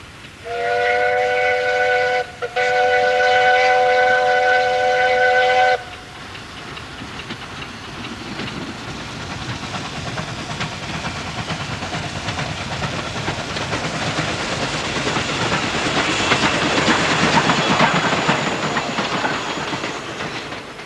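A steam train's whistle blows loudly in long sustained blasts, then the train rumbles and clatters along a branch line track in Zambia, growing louder and hissing.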